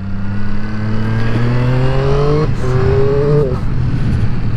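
A Triumph Street Triple RS motorcycle engine revs up close and loud, its pitch climbing steadily and then dipping and rising again, with no talk over it.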